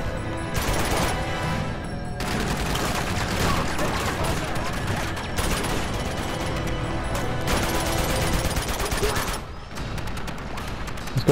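Sustained gunfire from a heavy turret-style weapon in the video game Uncharted 2, loud dense bursts of shots and impacts running almost continuously with brief lulls, mixed with game explosions and crashes.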